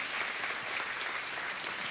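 Congregation applauding in a church service, a dense, steady clatter of many hands clapping at an even level throughout, with no talk over it.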